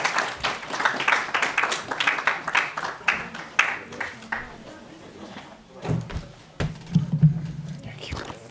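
An audience applauds to welcome a speaker at a community lecture: brisk clapping from many hands fills the first half, then thins into scattered claps as a voice begins speaking.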